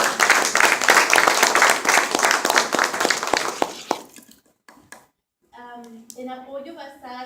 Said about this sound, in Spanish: Un aplauso para ella también, que trabajó muy bien.